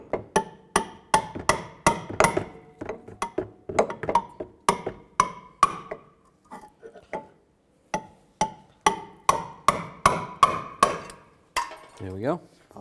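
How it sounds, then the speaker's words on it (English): A hammer strikes a punch to drive the center out of a front wheel hub on a 2003-2007 Cadillac CTS, sharp metallic blows in quick bursts of several hits with short pauses between. "Just going to take a punch from the backside and hammer out the center of this."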